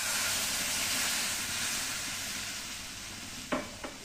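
Milk stirred into roasted flour in a pan gives a steady close sizzle and hiss, ending with two short knocks of a utensil against the pan.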